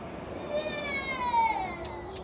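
A cat lets out one drawn-out, falling meow close by indoors, with faint household background and no talk.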